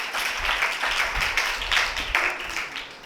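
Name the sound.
loud applause from congregation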